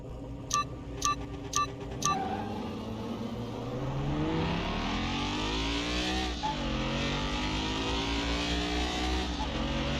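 A Ford Mustang engine in the Car Mechanic Simulator 2021 game is heard after four short electronic beeps, rumbling loudly and steadily with its pitch rising and dipping as it revs, with no talking.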